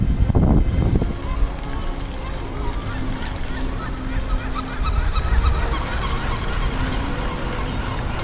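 Seagulls in Rome near Trajan's Column give loud honking, laughing calls over busy outdoor street ambience, with people talking nearby.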